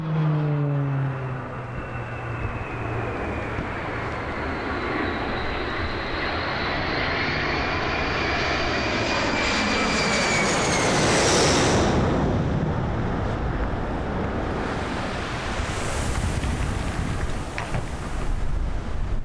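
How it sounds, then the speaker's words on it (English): Blue Angels jets take off at El Centro: a loud, sustained turbine roar with a rising whine that swells as the aircraft pass close, peaking before easing into a steady distant rumble, with no voices. "At El Centro, the Blue Angels show pure takeoff precision"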